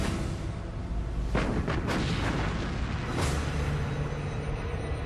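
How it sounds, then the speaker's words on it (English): Heavy naval gunfire from the German battleship Bismarck in May 1941, several deep booming blasts rolling over a dense rumbling background, with no voices. "Bismarck opens fire."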